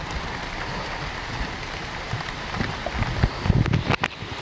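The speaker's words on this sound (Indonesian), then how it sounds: "sudah turun juga hujannya teman-teman" Rain falls steadily in hilly countryside near a ravine, a dense hiss with louder patters and drops toward the end, no voices.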